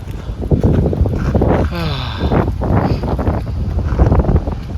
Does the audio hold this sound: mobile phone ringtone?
no